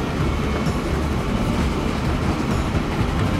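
A steam locomotive running on rails in the video game Transport Fever 2, heard from the cab as a steady dense rumble of rolling wheels and engine noise with no distinct beats or talk.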